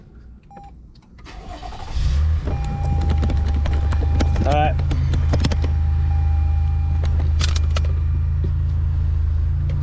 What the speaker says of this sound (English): Gonna go ahead and start the car.